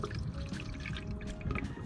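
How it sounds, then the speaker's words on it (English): Ortho Weed-B-Gone weed killer concentrate pours from its bottle into a hose-end sprayer container, a continuous close liquid splash and trickle with faint dripping. "gonna just go ahead and pour it into the container of the hose and"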